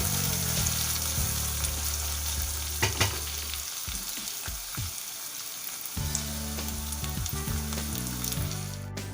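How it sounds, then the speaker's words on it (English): Sliced onions frying with spices and ginger garlic paste for chicken biryani, a loud continuous sizzle with occasional scrapes of stirring and a brief dip midway. "So these onions are getting fried, and I have just added 1 teaspoonful of ginger garlic paste to it."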